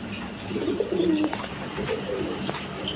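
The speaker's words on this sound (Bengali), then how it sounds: "এখানে আরেক পেয়ার কবুতর আছে দেখেন আপনার একদম বিগ সাইজের হাই ফ্লাইং গিরিবাস কবুতর" Big high-flying Giribaz pigeons coo softly in low, rolling calls a short distance away, with faint chirps and light background noise and no talk.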